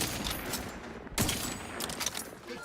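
Sniper gunfire in a video game: a sharp, loud shot crack cutting through a busy mix of game effects, with scattered further gunfire around it.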